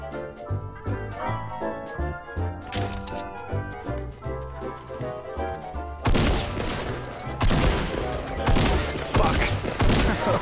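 Rapid bursts of gunfire in a Fortnite Battle Royale match, dense volleys and sharp cracks over game music, growing louder and denser in the second half.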